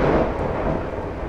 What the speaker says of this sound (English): right now it's raining cats and dogs